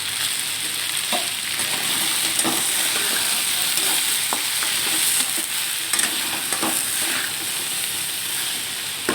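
Turmeric and chilli powder sizzle and crackle steadily in hot oil in a covered pan, a continuous close frying hiss with faint scattered pops and clicks throughout.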